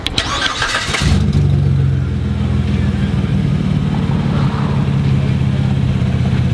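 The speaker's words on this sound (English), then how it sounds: "All right, guys, Omar's truck is finally gonna run." A turbocharged V6 pickup truck cranks briefly and fires up, then settles into a loud, steady, close idle with a rumbling engine note.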